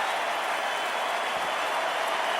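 A stadium crowd at an NFL game applauds and cheers in a steady, dense roar that holds evenly throughout, with no talk over it.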